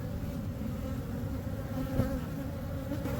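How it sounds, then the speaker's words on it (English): Dense, steady buzzing of a mass of honeybees during removal of a beehive full of honeycomb and brood, loud and continuous with no talk. "Definitely bees."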